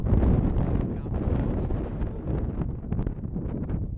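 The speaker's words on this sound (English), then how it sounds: "Still got a little bit of wind here." Wind at an 18,000-foot high camp on Aconcagua roars steadily and gusts against the microphone as a low, rumbling buffeting throughout.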